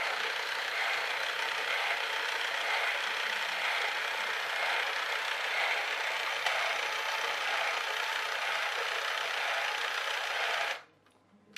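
An electric toy train motor with a broken gear runs in reverse, a steady buzzing mechanical whir with light gear rattle that holds evenly for about ten seconds, then cuts off abruptly.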